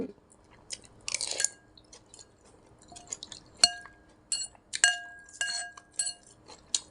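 Chopsticks and a spoon clink against a bowl of Lao pho as they are set in, a few sharp ringing clinks spread over several seconds, close and fairly quiet, with faint chewing and handling noises between.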